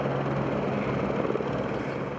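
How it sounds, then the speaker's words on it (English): Police helicopters landing with SWAT teams near a convention center, a steady loud rotor and engine roar with a faint rhythmic chop, continuous throughout and no voices. "choppers land with SWAT teams rushing inside a nearby building"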